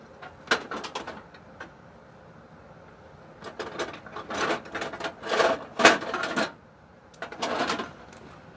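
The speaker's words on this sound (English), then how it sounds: "Now let's get the circlip in." A circlip being worked into place during assembly of an 025 engine, heard as bursts of close metallic scraping, clicking and rattling separated by quiet pauses, with no talking.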